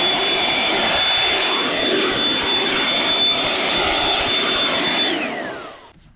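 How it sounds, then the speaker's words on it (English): A vacuum cleaner runs with a loud, steady whine while it sucks out the engine air filter housing of an Audi Q7, then spins down sharply at the end. "I'm just going to use a quick vacuum."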